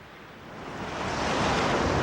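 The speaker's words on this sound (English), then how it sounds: "The ships rocked up and down on huge waves which crashed onto their decks." Rushing sea surf in a storm, a broad hiss of crashing water that swells louder over two seconds, with no voices.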